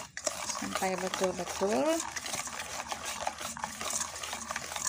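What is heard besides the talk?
whisking sponge cake batter in a bowl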